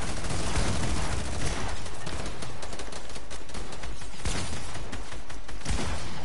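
Rapid, dense gunfire from the Fortnite video game crackles loudly and almost without pause, bursts of shots running together into a continuous volley across the whole stretch.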